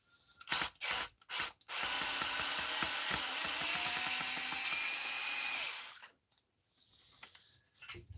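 A ball driver works screws out of an Arrma Fireteam RC car's differential, a few short clicks and then a steady rasping, grinding whir for several seconds, ending in scattered small taps close by.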